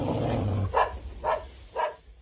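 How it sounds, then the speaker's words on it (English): A dog gives three evenly spaced barks as a sound effect in a narrated story about a crated dog on a train, following a low growl, moderately loud and without talk. "He growled and barked at the men."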